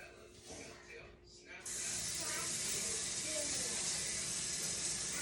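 A can of hair spray hisses in one long, steady burst after a brief pause, close and loud, preceded by some quieter handling noise.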